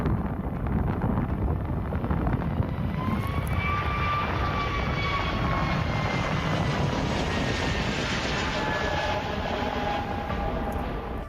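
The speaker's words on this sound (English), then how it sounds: "This aircraft had to go around after a flock of birds joined the runway" An aircraft aborting its landing and going around after a flock of birds settled on the runway, heard as a sustained loud engine roar with rising whine tones and wind noise, no talking.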